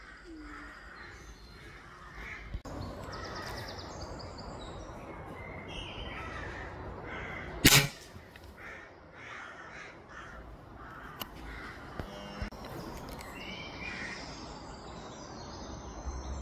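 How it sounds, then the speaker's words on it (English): Crows and jackdaws caw around a barn, scattered harsh calls near and far over quiet outdoor ambience, with one sudden loud sharp knock partway through. "Absolutely tons of crows about and jackdaws"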